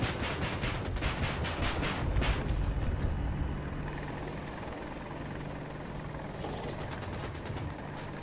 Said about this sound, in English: Enemy chopper up, enemy chopper.